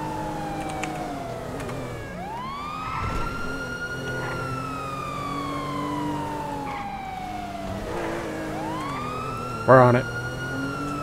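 Police car sirens wail in the GTA video game, long rising and falling tones that sweep continuously across the clip, with a second siren swelling near the end while a voice briefly speaks over them.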